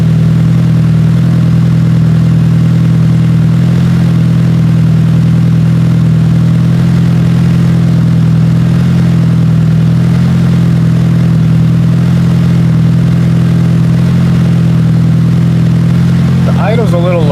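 A car engine idles steadily on its own during a smoke-machine vacuum leak test, a low even hum running throughout with the idle sitting slightly lower; a brief higher whine rises near the end.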